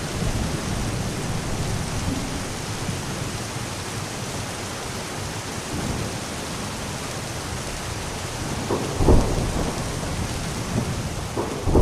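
Steady heavy rain hissing on surfaces with low rolling thunder rumbling underneath, and a louder crack of thunder near the end, continuous and immersive with no voices.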